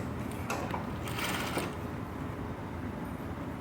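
A sewing machine stitches a seam on fabric for an embroidered neckline, a soft, close mechanical whir with a brief busier burst near the start.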